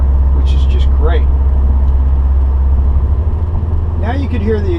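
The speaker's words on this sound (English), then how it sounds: "Now you could hear the exhaust." A Subaru WRX fitted with an Invidia Q300 catback exhaust cruises at about 35 mph in third gear near 2,500 rpm, heard as a steady low exhaust drone from inside the cabin, with brief voice sounds over it.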